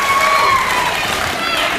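A studio audience cheers and shouts together in a dense, loud crowd roar that holds steady for a couple of seconds without letting up.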